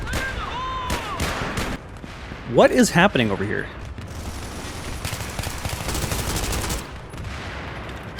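Gunfire bursts in the video game Strike Force 3, with broadband cracks and rattling shots scattered across the scene, a louder flurry in the middle, and a player speaking over the action.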